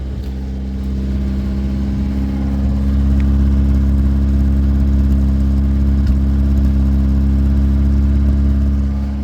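A tow truck's cold engine, just started, runs at a steady low idle, droning evenly and rising slightly in intensity, with no voices.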